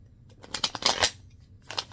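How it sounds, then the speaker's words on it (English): Quick papery riffling and flicking of tarot cards in short bursts, close and fairly quiet, with a brief pause before a final flurry. "I'm just shuffling until the cards tell me to stop."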